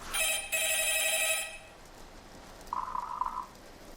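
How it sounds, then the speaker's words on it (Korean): A telephone rings in two long bright trills, then a short fainter electronic tone sounds after a pause, with no voices. "갑자기 울리는 한 통의 전화."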